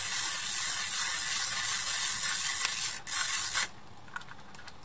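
A Hasselblad 500C/M film winder turns steadily to the first frame, a continuous close mechanical whir with a soft hiss. It ends in a brief click before a quieter stretch.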